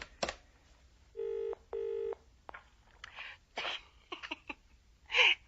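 A telephone being dialed in a radio drama set in an English village: two distinct steady tone bursts of touch-tone dialing, loud and close, among short clicks and handset handling noises with brief breaths.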